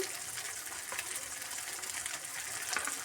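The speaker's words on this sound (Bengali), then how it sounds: "এবারে একসাথে সব ভেজে নেব" Mustard paste, cumin paste and chili paste frying together in a pan, a soft, steady sizzle and crackle that holds at a low level throughout with no voices.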